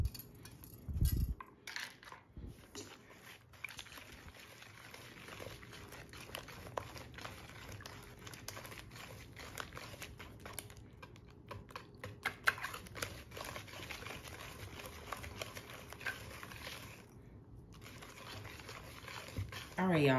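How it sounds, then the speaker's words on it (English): Cake batter for a sweet potato honey bun cake being whisked by hand in a bowl, a steady run of quick clicking taps against the sides that carries on for the whole stretch, with a voice talking faintly at times. "now I'm just gonna whisk this up"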